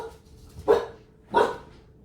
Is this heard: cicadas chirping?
no